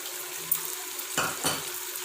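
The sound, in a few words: yogurt sizzling in mutton karahi over high heat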